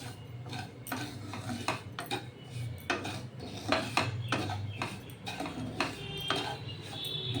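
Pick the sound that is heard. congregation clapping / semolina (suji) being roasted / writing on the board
semolina (suji) being roasted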